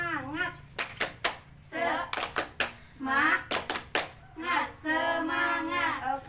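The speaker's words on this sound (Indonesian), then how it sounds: "Oke, tepuk semangat." Mothers in a health and nutrition class perform a rhythmic spirit clap, sharp patterned bursts of group clapping alternating with chanted voices, close and lively.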